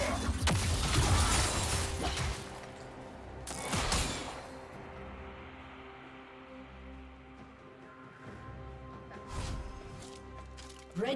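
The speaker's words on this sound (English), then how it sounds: "Red team's turret has been destroyed." Turret destruction in League of Legends, a few separate crashing, shattering bursts with crumbling debris, loud near the start and fainter later, set over a low game hum.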